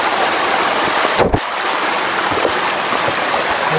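Steady rushing water flows nearby with a constant broadband hiss, briefly interrupted by a soft thump.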